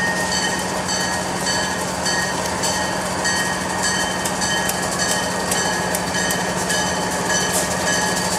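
A Pan Am Railways locomotive and its train pass steadily on tracks between North Adams and Buckland, Massachusetts, with a continuous loud rumble of rolling cars, a low engine drone and faint rhythmic wheel clatter.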